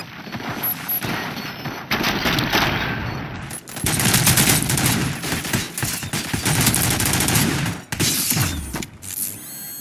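Police firing in the video game RoboCop: Rogue City: dense bursts of automatic gunfire rattle in overlapping volleys, loud and close, with mechanical clanks and brief pauses between the long fusillades.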